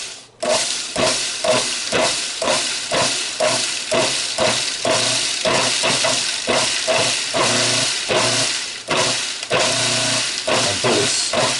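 Food processor pulsing crumbs with melted butter for cheesecake crust, loud close bursts of whirring chop repeated in a steady rapid series, no talking.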